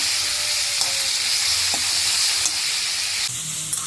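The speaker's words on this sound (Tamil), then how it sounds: "நான் எல்லாமே போட்டு ஃப்ரை பண்ணி நடக்கிறேன்" Chicken pieces fry in a pan for a Tamil-style chicken kolambu, a steady close sizzle with broadband hiss throughout and a few faint clinks, with no talking.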